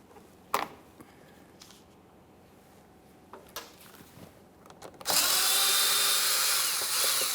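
A power drill whines steadily while backing out 7mm mounting bolts on a GMC Acadia headlight assembly. A few sharp clicks and clunks come first, then the drill runs loud and continuous for the last couple of seconds.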